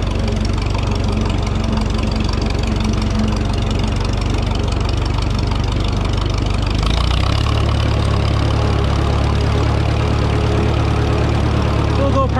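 An Allis tractor engine idles with a steady, loud, low chugging rumble that shifts in tone partway through, with voices faintly under it.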